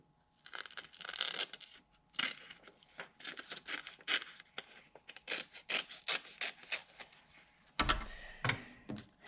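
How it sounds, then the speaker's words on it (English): Scissors snipping out a line of small paper squares at a lab bench, a quick series of close, crisp cuts in bursts with brief pauses, ending in a few heavier clunks. "let me take a second and cut out some of these small squares"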